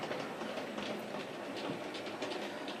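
Model train rolling along its track at a speed set by an inertia knob, giving a continuous close rumble with rhythmic clickety-clack wheel clicks and no voices.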